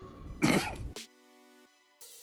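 A single harsh cough with some throat clearing, close by, followed by quiet with a faint hum and a brief breathy noise at the end.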